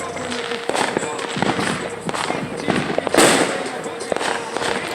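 Cheap fireworks going off at a small home show, a busy run of sharp pops and crackles with one louder burst partway through, heard close over steady background noise.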